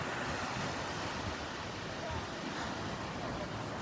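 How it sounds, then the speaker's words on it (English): Mild sea waves wash ashore at Llandudno seaside in North Wales at evening, a constant soft surf rush mixed with gusty wind noise on the microphone; a voice talks faintly over it. "It's very mild waves here."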